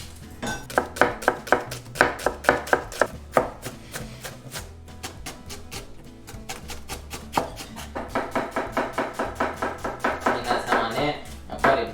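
A kitchen knife chopping onions and carrots on a cutting board for beef tongue ragù, quick bursts of crisp rhythmic knocks that pause briefly and then resume in a faster steady run, close and distinct.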